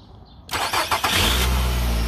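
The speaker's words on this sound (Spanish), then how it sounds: "Y el auto enciende." A Nissan car with keyless push-button ignition starts up: a brief click, a few cranking pulses, then the engine catches and settles into a steady, loud idle nearby.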